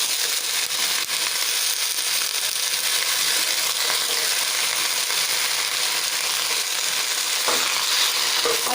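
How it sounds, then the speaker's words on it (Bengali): Bottle gourd leaves and stems hit a frying pan for a Bengali curry, giving a steady, close sizzle with scraping, ratchet-like stirring clicks throughout, loud and without talk. "এবার আমি লাউ শাকগুলো দিয়ে দেবো এর মধ্যে।"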